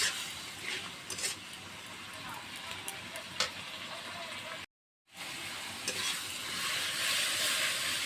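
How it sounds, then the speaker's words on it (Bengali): Spice paste for a paneer curry stirred and fried in a pan, a steady close sizzle with scraping stirs throughout, briefly cut out partway, then louder frying toward the end. "এবার সাতলায় নেব ভালো করে মশলাটা।"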